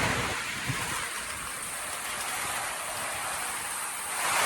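Heavy rain pours steadily on a house in Thailand, a dense hiss of drops beating on a surface, with a faint low rumble underneath.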